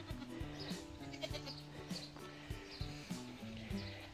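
Goats bleat in their new pen on a pasture, several short, wavering calls spread across a few seconds, moderately faint with some farmyard background noise.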